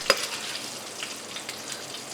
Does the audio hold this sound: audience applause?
no